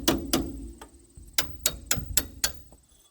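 A hammer strikes a roll pin punch to drive out a brake caliper pin on a 1991 Ford F-150 front brake, giving a series of sharp metallic taps, about eight hits in uneven rhythm, close and fairly loud.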